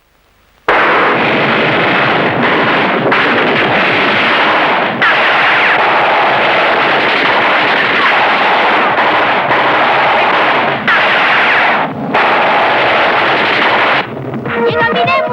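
A shootout in a Hindi horror film erupts in loud, dense, continuous gunfire bursts with voices mixed in, then cuts off abruptly near the end.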